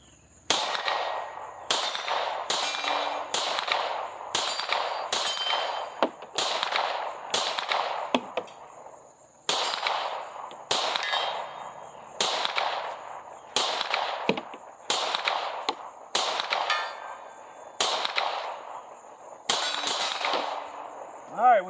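Sharp, loud pistol shots come from a Tisas 1911 DS Duty fitted with a compensator and fired at targets from 7 to 100 yards. About seventeen cracks land in a steady, evenly spaced string at an outdoor range, each with a brief echo.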